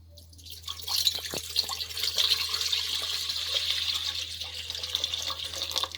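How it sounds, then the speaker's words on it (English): Water runs steadily from a tap or pour into a steamer for South Indian idli, a continuous hissing splash for several seconds with a faint low hum beneath and no talk. "So we can put the water into the steamer."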